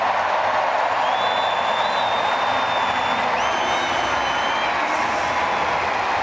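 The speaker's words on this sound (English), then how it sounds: "they see her on the big screen and they start to cheer" Large stadium crowd at an athletics Diamond League meet in London cheers loudly and steadily throughout, a broad roar with scattered whistles rising above it.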